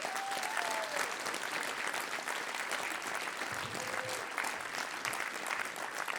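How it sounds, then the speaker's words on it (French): A concert audience applauds musicians, a pianist and drummer, at a live music evening; dense, continuous clapping fills the room at steady loudness, with brief faint voices and a whistle-like tone near the start. "On peut les applaudir."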